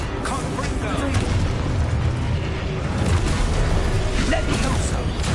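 Confringo fire spell cast in Hogwarts Legacy, heard as a dense, rumbling blast with crackling bursts that sustains loudly across the whole moment amid busy combat noise.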